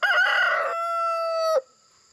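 A backyard rooster from a flock of chickens fed on windfall apples gives one loud, close crow lasting about a second and a half, cutting off sharply into near silence.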